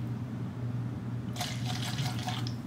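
Vodka is poured into a shot glass, a brief splashing trickle of liquid starting midway and lasting about a second and a half over a low steady background hum.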